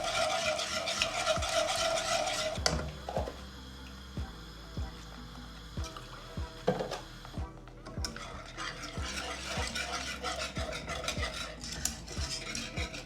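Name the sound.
stirring milk into mac and cheese sauce with whisk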